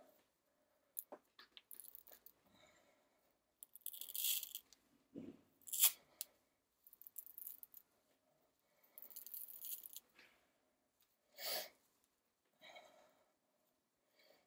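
Hands pull apart a tough dreadlock in short, separated bursts of dry crackling, tearing and rustling fibres, close and quiet, with brief pauses between each pull.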